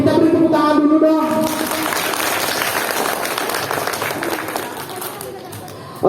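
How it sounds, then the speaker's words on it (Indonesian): Audience applause at an indoor gathering, a sustained round of clapping with crowd chatter that follows a voice at the start and slowly fades. "kita beri tepuk tangan dulu dong"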